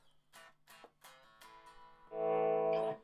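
Single notes on a Washburn Force 2 electric guitar plucked one after another, each ringing out with reverb through an Orange TH30 amp, then a sustained distorted chord fills the end.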